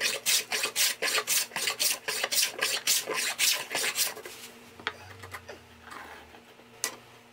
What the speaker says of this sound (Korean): 목재가 휘어져 있어서 대패를 이용해서 평작업을 먼저 합니다.